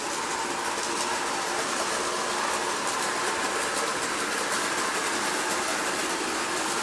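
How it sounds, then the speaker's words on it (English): A continuous rushing, whirring run with a faint rhythmic clicking as a postwar Boston and Maine model train set rolls steadily along track close by. "It never was the best looking train, but man, that thing can run."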